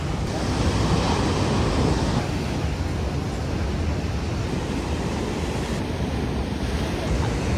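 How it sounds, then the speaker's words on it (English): Ocean waves surge and wash steadily with wind buffeting the microphone, a loud, continuous roar with no voices heard. "look at the waves, look at that."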